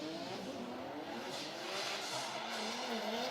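A drift car tossing into a corner, its engine revving hard as the tires squeal in long, rising and falling screeches, loud and continuous from start to finish.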